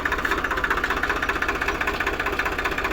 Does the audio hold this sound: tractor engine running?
yes